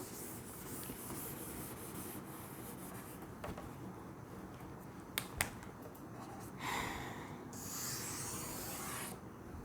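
Rubbing and wiping on a classroom board while clearing away the first part of a maths problem, a soft continuous scratchy rasp with a couple of sharp taps midway and a brighter swishing stroke near the end.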